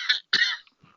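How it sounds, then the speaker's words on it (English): A man coughs twice in quick succession, close and fairly loud, followed by a faint throat sound in an otherwise quiet room. "Excuse my cough here."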